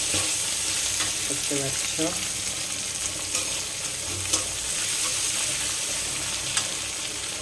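Ginger-garlic paste fries in a hot pan with a continuous close sizzle, and a utensil scrapes and clinks now and then as it is stirred. A voice speaks briefly.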